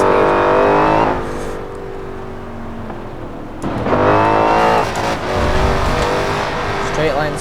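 A Dodge Challenger Hellcat engine in Forza Horizon 4 revs and accelerates loudly, its supercharged roar rising through gears with a brief shift dip, while someone talks over it.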